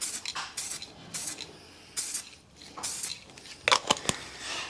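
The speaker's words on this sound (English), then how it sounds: "So I'm literally just spraying that bit there." Short hissing bursts of spray primer are applied to a plastic BMW E91 bumper, several quick blasts with brief pauses between them and a cluster of sharper sprays near the end.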